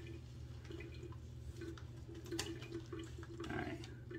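Soft trickling and dripping water being worked into Proraso Green shave cream lather, with light splashes and a faint steady hum underneath, quiet and close.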